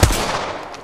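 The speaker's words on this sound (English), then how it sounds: "Shots fired at me." Gunfire in the video game Apex Legends: a short burst of shots with a sharp opening crack followed by rapid, rattling fire, loud and close with no talking.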